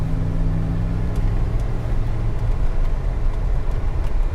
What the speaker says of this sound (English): Still has a stock exhaust.